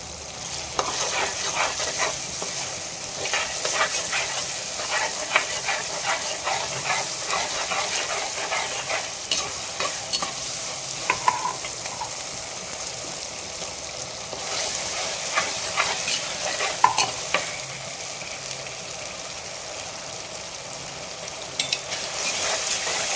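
Onions sautéing in a pan with ginger garlic paste for a country chicken fry, giving a steady sizzling hiss with intermittent scraping stirs and clicks throughout.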